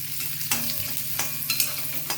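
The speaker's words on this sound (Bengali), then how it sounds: "পেঁয়াজ রসুন দিলাম, তেলে একটু ফ্রাই করছি।" Onion and garlic frying in oil for Bengali-style katla fish kosha, a steady close sizzle with stirring scrapes and a few sharper clinks of utensil against pan, no voices.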